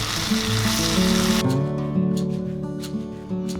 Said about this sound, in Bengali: মিশ্রণটা এবারে কড়াইতে দিয়ে দেব।